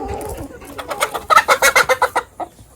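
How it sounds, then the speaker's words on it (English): Hens in a homestead chicken pen cluck in a quick, loud run of short rhythmic calls, close by. A softer murmur comes before them. "These chickens will just eat this stuff up."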